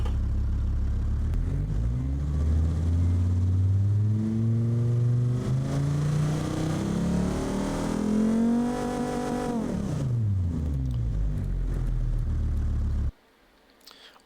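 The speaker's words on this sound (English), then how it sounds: "you can slide up and down the slider and hear the engine like this" A simulated car engine in the BeamNG video game, run by hand on a manual engine test slider. The revs climb smoothly to a loud, sustained high whine, then drop back down before the sound cuts off abruptly.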